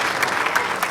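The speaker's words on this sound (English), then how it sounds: "a round of applause for our two-time main event winner" An audience at the 2007 World Series of Poker Main Event poker tournament breaks into steady, dense applause that holds at an even level throughout, with many hands clapping close together.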